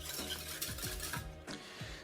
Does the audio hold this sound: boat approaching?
no